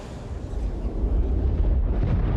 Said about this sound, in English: Shockwave.